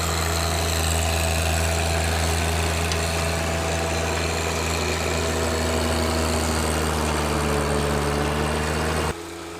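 A compact tractor's small engine chugs steadily at close range with a constant low rumble and rattle, running without a break until it cuts off abruptly near the end.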